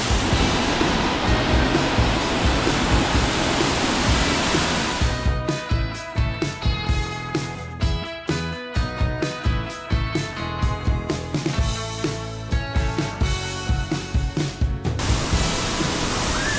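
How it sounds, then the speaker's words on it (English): A waterfall in Oregon's Columbia River Gorge gives a steady, dense broadband roar at the start and end. Music covers the middle stretch. "I'm just getting a first glimpse of the falls before we have a full day of waterfall photography tomorrow."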